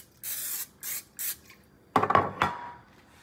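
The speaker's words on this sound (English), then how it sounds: "Spray the sides and the bottom really good." Cooking spray hissing into an 8x8 baking pan, three short sharp bursts, then a few clattering knocks of the metal pan being handled, close and clear with no talking.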